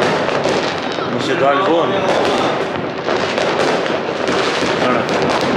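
Firecrackers and dynamite blasts going off outdoors around New Year, a dense run of loud sharp bangs and crackles throughout, with people talking and shouting over them.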